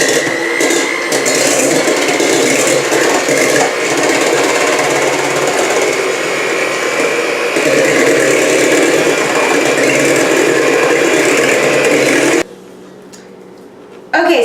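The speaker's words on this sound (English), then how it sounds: "now that our eggs are beaten to a pulp" Seven eggs are beaten for keto bread with a loud, steady electric mixer whir that runs continuously, close up, and cuts out abruptly near the end.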